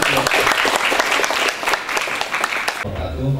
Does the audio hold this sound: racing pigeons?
no